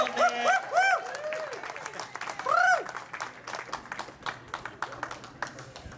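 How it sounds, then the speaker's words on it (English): A crowd applauds at an outdoor opening celebration on an alley, with sustained clapping under bird-like chirps and background talk. "Can we have a really big round of applause to the energy up a little bit?"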